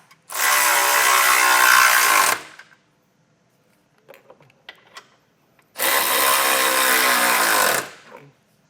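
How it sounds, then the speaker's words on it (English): A power tool runs in two long bursts of about two seconds each, tightening 16mm frame stiffener bolts on a 2023 Jeep Gladiator, loud and close, with faint clanks and handling sounds between. "The first thing that we're going to be tightening is going to be our 16mm bolts that we got from those frame stiffeners"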